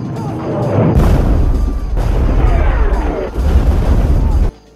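Bombs exploding in the war film Fury: loud, heavy, rumbling blasts rolling one into the next with crashing debris, cut off sharply at the end.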